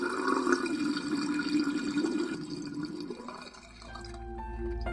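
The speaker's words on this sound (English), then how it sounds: "Some kind of water just drained." Water drains away in the VR horror game Dying Reborn, a steady sloshing rush that ebbs partway through and gives way to low droning game ambience with no talking.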